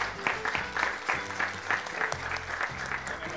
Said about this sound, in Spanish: un gran aplauso, porque yo veo los platos aquí